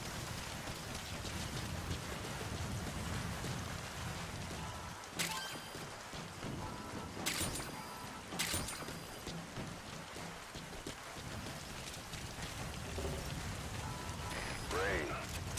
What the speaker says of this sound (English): Rain. The sound of rainfall should help to mask your footsteps.